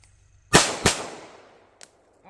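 A Glock 17 Gen3 pistol fires two quick, sharp shots at a cardboard target, close and loud with a short echo trailing off, followed by a faint click.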